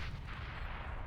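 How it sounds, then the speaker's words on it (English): A grenade goes off in a Counter-Strike match on the Overpass map, a dense, sustained low rumbling boom that fills the whole moment at moderate level, with no voices over it. "Nade going to go out."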